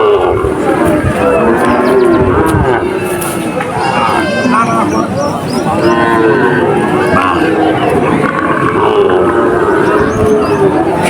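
Cattle lowing at the Chuknagar cattle market in Khulna, with bull calves on sale and more cattle arriving by truck; steady moos rise over a dense crowd murmur and talk throughout.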